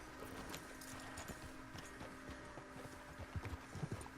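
Horse hooves clip-clop steadily in the video game Red Dead Redemption 2, a faint rhythmic trot over a constant low ambient hum, with a few heavier hoof strikes near the end.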